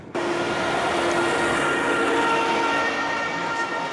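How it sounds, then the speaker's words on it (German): A small train rumbles by nearby in Waren (Müritz), a steady rolling roar with faint squealing tones that holds for several seconds. "Hinter mir kommt eine kleine Eisenbahn."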